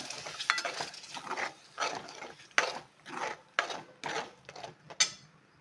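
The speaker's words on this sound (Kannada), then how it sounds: "ಇವಾಗ ಹುಣಸೆ ಹುಳಿ ಹಾಕ್ಕೊಳ್ತಾ ಇದ್ದೀನಿ ಎಲ್ಲ ಮಿಕ್ಸ್ ಮಾಡ್ಕೊಳ್ಳೋಣ" Thick masala with soaked tamarind stirred in a pan for Andhra-style fish curry, a series of rhythmic scraping, sizzling strokes about once a second, close and clear with no talking.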